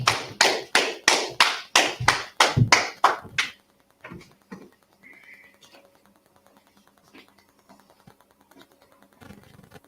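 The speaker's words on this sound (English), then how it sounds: "Clap it up." An audience at a gathering in Harlem, New York, claps in unison: about a dozen loud, evenly spaced claps over three and a half seconds, then sparse scattered taps and quiet room noise, with a final burst at the end.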